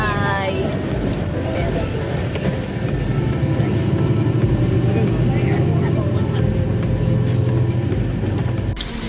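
Inside a direct bus running from Taoyuan international airport to Ximending, a steady engine drone and road rumble carry on throughout, with a voice talking over it.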